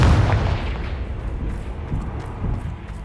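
The Confringo fire spell cast in Hogwarts Legacy: a heavy booming burst at the start, then a rumbling explosive tail with smaller thuds that trail off over three seconds.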